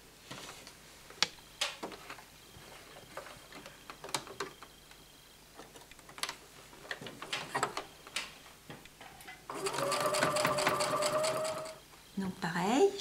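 A sewing machine stitches strips for a Log Cabin quilt, its rapid mechanical whir breaking in near and loud for a steady burst of a few seconds after quieter handling sounds and faint talk.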